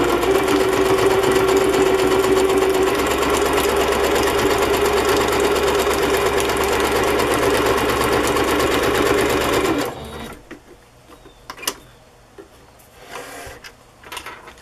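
A sewing machine stitches a decorated journal, its loud steady motor whir and rapid needle rattle running continuously for about ten seconds before stopping, followed by a few faint clicks and handling sounds.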